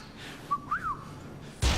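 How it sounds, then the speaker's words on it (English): A person whistles a short rising and falling tune, thin and fairly quiet, followed by a brief thump at the end. "give us a whistle."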